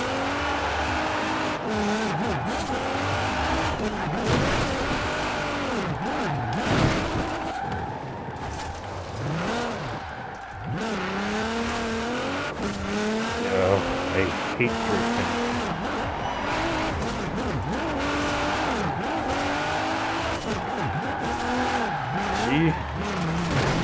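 Car drifting sideways in Forza Horizon 4, tires squealing in long wavering sweeps over a steady engine roar, with a voice talking briefly over it.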